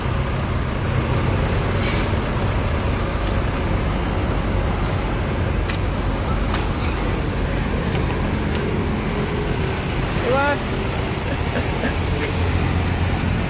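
A bus engine idles loudly and continuously, with short hissing bursts of air brakes releasing now and then amid general traffic noise at a departure point.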